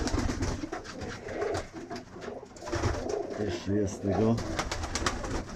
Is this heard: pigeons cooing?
yes